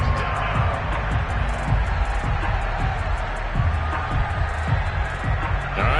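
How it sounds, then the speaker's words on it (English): Stadium crowd noise from a Madden football video game, a constant broad roar of cheering and applause that fills the background under a commentator's voice. "How about some applause for the defense there?"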